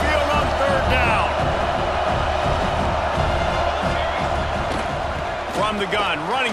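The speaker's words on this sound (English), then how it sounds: "The Tide crowd rolling noise down onto Saban Field on third down" A stadium crowd roars continuously on third down at Saban Field in EA Sports College Football 26, a loud, steady rumble with swelling cheers beneath a commentator talking.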